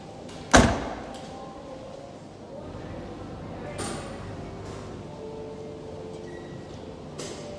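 A 2021 Toyota Yaris 1.5 G facelift has its fuel door opened: one sharp, close click-thud, then a low, steady background.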